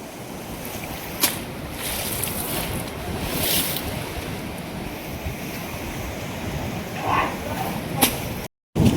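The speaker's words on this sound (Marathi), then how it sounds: "खळखळणाऱ्या पाण्याचा आवाज आणि या लाटा उसळताना पाहू शकता आपण" Flooded Vaitarna river in spate, a continuous loud rushing roar of gushing water and waves with wind buffeting the microphone, near and steady, briefly cutting out at the end.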